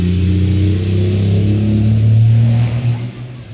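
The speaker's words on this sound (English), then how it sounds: "Big old truck just went by" A big truck drives past outdoors in a rural area, its engine a loud, low rumbling drone that swells as it nears, holds steady, then begins fading away.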